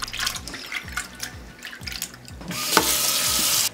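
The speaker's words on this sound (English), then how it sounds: "So wash it in the salty water, and this will help get rid of some of the sliminess." Sliced giant surf clam pieces are swished and rinsed in salty water in a kitchen, with splashing and sloshing followed by a steadier rush of running water near the end.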